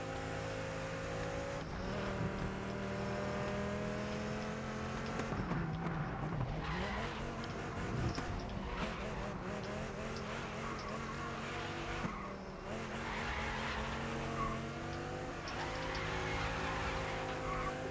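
A Dodge Viper races in the video game GRID Legends. Its loud engine roars continuously, rising and dropping through gear shifts, with bursts of tire squeal and skidding, and no talking.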